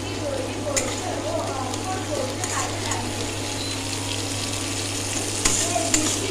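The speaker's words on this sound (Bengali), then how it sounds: "ভালো করে পেঁয়াজটা একটু ভেজে ভেজে নেব" Onions frying in leftover oil in a kadai: a constant close sizzle and crackle with faint stirring and clatter, even in level from start to finish.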